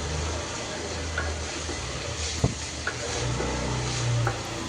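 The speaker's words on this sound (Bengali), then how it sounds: "তো এখানে প্রথমে আমি ভাজিটা বসিয়ে দিচ্ছি" Soft sizzle of vegetable bhaji with onion, dry and green chilies frying in a pan, with a few light clinks of a utensil against the pan and low background noise; no talking.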